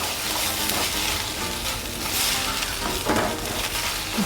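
Spinach and egg thoran is stirred in a hot frying pan, giving a steady, close sizzle with soft scraping from the spoon running throughout.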